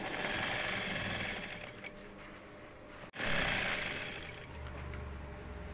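A sewing machine stitches a belt-loop strip onto a skirt or trouser waistband. The motor whirs close and steady, cuts out briefly midway, then starts again and keeps running.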